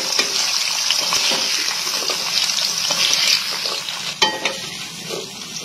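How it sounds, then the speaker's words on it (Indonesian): Jengkol beans frying in a pan in a village kitchen, giving a steady close sizzle and bubbling hiss with occasional stirring clatter throughout. "itu pun bisa lihat goreng jengkol"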